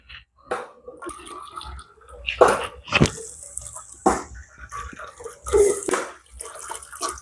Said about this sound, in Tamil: இப்போ வந்து நாங்கள் இந்த சர்க்கரையை வந்து வடித்து விடுவோம்